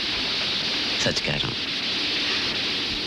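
Steady hiss of rain pouring in a Hindi action film scene, continuous and fairly loud throughout, with someone speaking briefly over the downpour.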